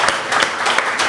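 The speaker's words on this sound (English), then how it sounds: "We'll get a double round of applause there." Audience at a live talk gives a round of applause, a brief, continuous patter of many hands clapping close and fairly loud.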